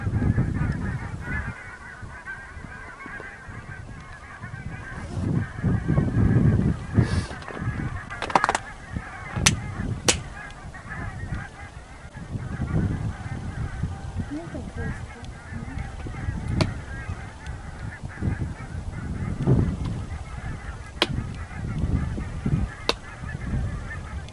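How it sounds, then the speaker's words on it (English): A flock of geese in Iceland honks in loose, overlapping bursts, some calls close and loud, others farther off, with no talking. "This flock of geese sounded like they were having fun."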